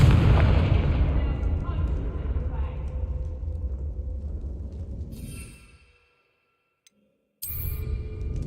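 A Confringo blasting spell explodes in Hogwarts Legacy on PS5, a loud booming blast with a long rumbling decay that fades to silence, followed by a brief sharp game sound.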